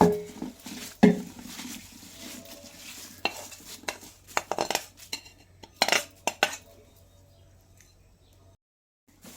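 A spoon mixing flattened rice in a pot: scattered scraping clinks and knocks against metal, close and in uneven bursts, with quiet gaps and a faint background hum.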